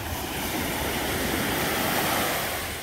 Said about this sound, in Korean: 이 바닷소리 들리시나요?